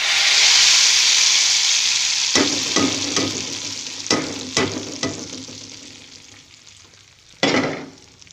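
Onions sizzle in a pan as a tempering of green chillies and spices goes in, a loud steady hiss that surges at the start, then crackles and spits in sharp bursts that fade before one last flare near the end.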